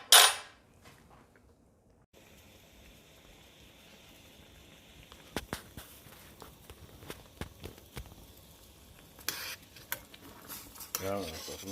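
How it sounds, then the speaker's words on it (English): A spoon clinks and scrapes against a pot on a kitchen stove in scattered light taps, followed by some clattering handling, all close and fairly quiet. "so to make a cup of tea, just go and boil it and stir it"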